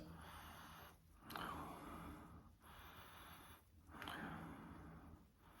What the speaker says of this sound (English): Have a bit of a sniff first.